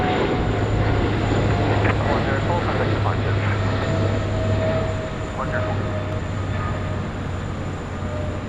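A Boeing 777 carrying the All Blacks takes off from Sydney Airport, a steady broad jet roar held close and loud throughout, easing slightly in the later seconds, with faint talk underneath.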